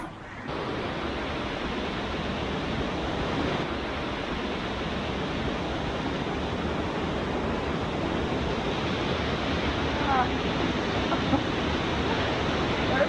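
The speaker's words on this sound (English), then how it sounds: "I didn't realize how much the river went along the trail." A river rushes along a mountain bike trail in New Hampshire, a steady, dense roar of flowing water that stays loud and even throughout, heard close with no talk over it.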